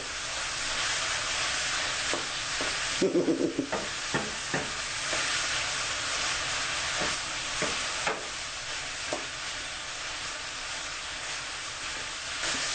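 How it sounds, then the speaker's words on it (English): Ground meat frying in a pan for spaghetti meat sauce gives a steady, fairly loud sizzle that runs throughout, with a few scattered clinks and scrapes of stirring on top. "I want to fry my meat a little bit"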